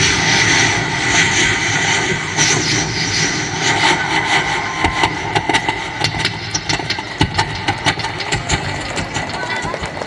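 A voice imitates an old-time airplane engine on stage at a school annual day: a loud, continuous droning rumble with rough, sputtering bursts that grow choppier toward the end.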